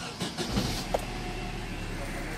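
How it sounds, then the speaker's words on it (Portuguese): A Chevrolet Meriva 1.8 that had been failing to run on adulterated fuel cranks and catches, then settles into a steady low engine idle, close and continuous after a few brief knocks at the start. "Vamos ligar o carro."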